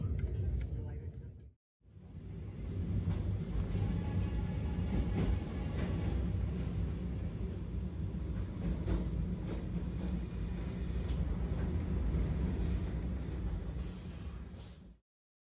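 Vande Bharat Express train running on the way to North Bengal, a steady close rumble and rattle of the moving carriages lasting throughout, with a brief dip near the start and faint sounds like voices in the background.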